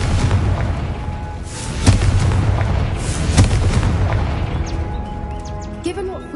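Confringo explosion spell cast in Hogwarts Legacy on PlayStation 5, loud booming blasts over continuous rumbling game sound, with a couple of sharp impacts standing out.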